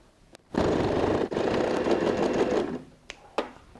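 A sewing machine stitches the bottom corner of a fabric handbag in one sustained whirring run of about two seconds, broken by a brief pause, followed by a few short clicks as it stops.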